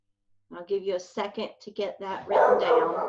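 A dog barks in the background of a home lesson, a brief burst of barking heard near the end while a teacher speaks clearly up close.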